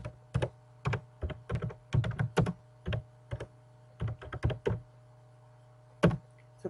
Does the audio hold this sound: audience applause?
no